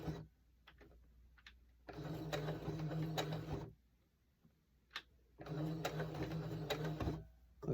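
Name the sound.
sewing machine stitching coasters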